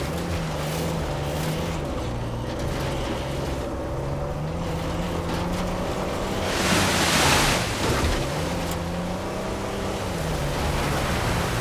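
Rushing waterfall in the Uncharted 4 video game, a steady broadband wash of falling water that swells louder for a moment midway, with a low tonal game music bed running underneath.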